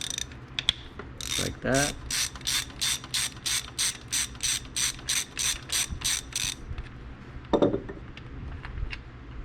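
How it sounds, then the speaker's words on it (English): A 13mm socket ratchet loosens the oil filter housing cap on a BMW E46 M3, giving a long run of about fifteen quick, evenly spaced clicks close up, with a few clanks of tools before and after and a brief voice. "13mm socket is to get the filter housing open"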